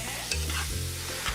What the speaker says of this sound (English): Maria fries 50 grams of finely diced pancetta.